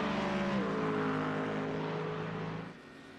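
A McLaren race car's engine in the iRacing sim at Suzuka drives out of the final corner. A loud, sustained high-revving whine shifts pitch early, holds steady, then tails off near the end.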